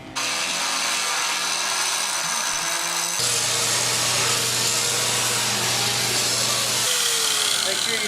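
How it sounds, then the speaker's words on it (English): A power tool grinds down rivets on the frame of a Chevrolet C10 truck during restoration, a loud continuous abrasive whine that steps in pitch midway and holds steadily through the stretch with no break. "We are going to have to grind down all these rivets, both the bottom and the top, to get it out of there"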